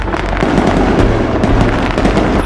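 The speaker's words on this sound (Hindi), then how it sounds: "अब धमाके का वक्त हो गया है।" Dense, continuous crackling bursts and rumbling blasts from a movie explosion effect fill the scene, loud and close, with no voices over them.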